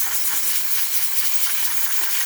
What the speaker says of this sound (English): some nice steam coming out of the machine now